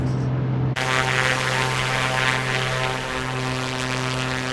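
A simulated A2A Comanche propeller plane takes off in Microsoft Flight Simulator 2024 with a loud, steady droning propeller and engine roar. The roar jumps up sharply near the start and then holds full power, with no voices.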